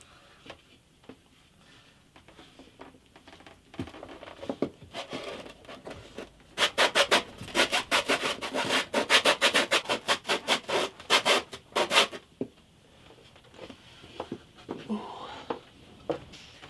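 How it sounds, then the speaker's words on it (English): Sandpaper of 120 grit rubbing across the bridge plate of an antique parlour guitar, heard as a run of fast, loud rasping back-and-forth strokes in the middle, with sparse scratches and handling before and after. "So fresh charge of 120 grit, and let's go in again."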